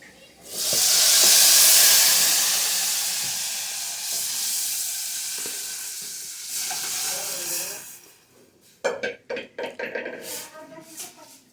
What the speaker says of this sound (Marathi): लसणाची फोडणी घातले